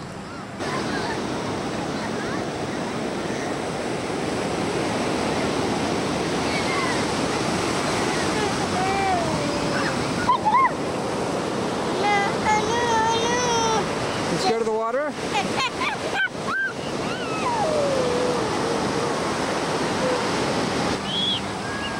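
Steady roar of ocean waves and surf on Carmel beach with wind buffeting the microphone throughout, while people talk and a voice chimes in over the constant wash.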